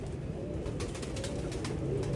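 A pigeon coos steadily in low, soft repeated notes close by, with a faint background hum and no talking.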